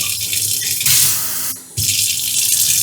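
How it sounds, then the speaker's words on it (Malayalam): Water gushes loudly from a piano-style kitchen sink faucet with several spray modes. The close, hissing stream shifts in character partway through, drops briefly, then surges back. "പല രീതിയിലും ഇങ്ങനെ വെള്ളം വരുന്ന സാധനമാണ്"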